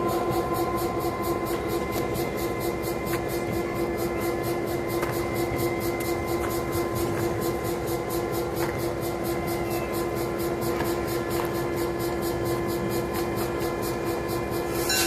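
Locomotive number 710 rolling on a railway turntable track at a heritage railroad, a steady continuous rumble with a sustained tonal hum and a fast regular clatter throughout, loud and close.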